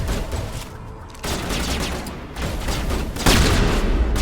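Rapid gunfire from the sci-fi shooter Mass Effect: sustained bursts of shots crackling at close range, getting louder toward the end, with no one speaking.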